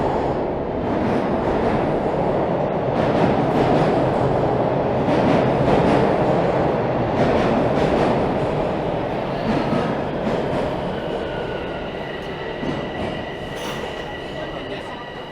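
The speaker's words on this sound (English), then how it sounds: "that was the train I wanted" A subway train in downtown Toronto rumbles loudly past at close range, wheels clattering and squealing on the rails, with the roar slowly easing as it pulls away.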